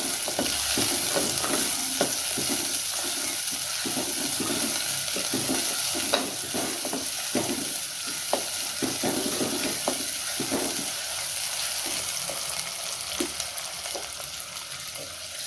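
Finely chopped shallots sizzle in hot oil in a pan while a spoon stirs them, giving a continuous crackling fry broken by frequent scrapes and knocks against the pan, with no talking.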